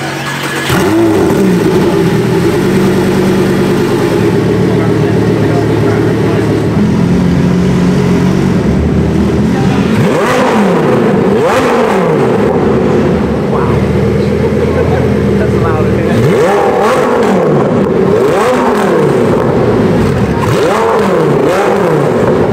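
A Zenvo TSR-S sports car revs hard through a loud aftermarket-style exhaust, with repeated rising and falling engine sweeps and sharp blips, very loud and close, while people talk over it.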